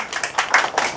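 Students clapping in a junior high school math classroom, a short burst of several sharp hand claps close by, fairly loud and uneven in rhythm.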